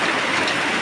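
Steady rain falls in a rural provincial setting, a dense, even hiss of drops on surfaces with no pauses, close and fairly loud throughout.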